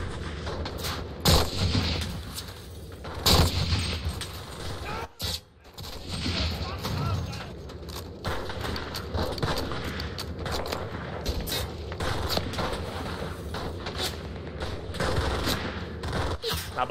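Gunfire from the Enlisted World War II shooter game on the Fortified District map: bursts and single shots crack over a dense, constant battle din, loud and close, while someone talks intermittently.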